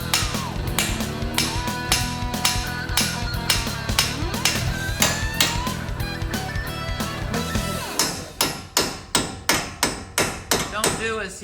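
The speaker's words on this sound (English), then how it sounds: "we need to grab a hammer and bang it" Repeated metallic hammer blows on a steel tie rod of a 6th generation Ford Bronco, rapid ringing strikes at first, then about a dozen slower, evenly spaced heavy bangs near the end.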